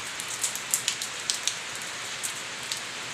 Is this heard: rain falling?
yes